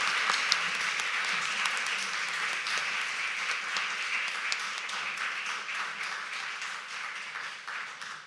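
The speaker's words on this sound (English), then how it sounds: "Let's clap all the women who helped them in the background, including male allies" An audience at a celebration of women's progress in maritime life breaks into sustained applause, a dense, even clapping that carries on for several seconds and slowly tapers off.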